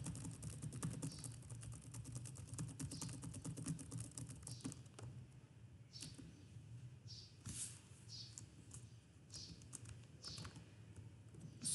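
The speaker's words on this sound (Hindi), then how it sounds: "मैं कुछ टेक्स्ट लिखता हूँ" Typing on a computer keyboard, entering text during a programming lesson: a steady run of light, quick key clicks continuing throughout at a moderate, close level, with no speech.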